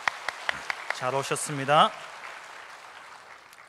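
Church congregation clapping to welcome newcomers, youth group members and a multiethnic couple, at a Daegu church service. Scattered claps and a soft, spread-out applause sit under a voice.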